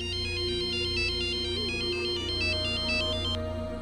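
An incoming call sets off a mobile phone ringtone, a loud repeating electronic melody in a steady rhythm, playing alone throughout.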